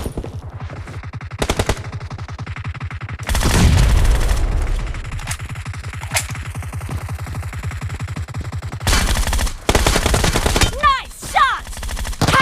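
Gunfire in the mobile game PUBG, with rapid automatic bursts and single shots in repeated volleys, one heavy booming stretch, and brief game voice callouts mixed in.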